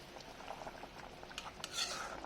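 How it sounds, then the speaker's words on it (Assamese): Kolkata-style fish curry gravy simmering in a pan, with a soft continuous bubbling close by and a few light clinks and sputters, quiet and without talk. "চাওক কি ধুনীয়াকৈ উতলি আছে"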